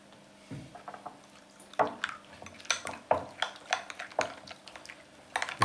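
Fried garlic being stirred into mayonnaise in a bowl, a series of close, sharp clinks and scrapes of a utensil against the bowl in an irregular rhythm.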